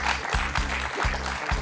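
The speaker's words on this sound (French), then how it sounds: "On peut l'applaudir, Catherine, pour ce superbe parcours." A game show studio audience applauds a contestant after her run, a brief burst of steady, moderately distant clapping.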